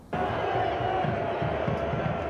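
Thousands of fans cheering on Team USA at a cold evening event at Finley Stadium, a steady, dense crowd roar that holds at an even loudness throughout.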